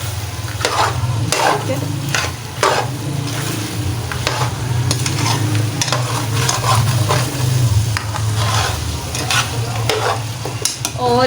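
Beef and ginger being stir-fried in a pot for achari gosht, producing a loud, continuous sizzle with repeated scraping strokes of a spoon against the pot and a brief spoken remark.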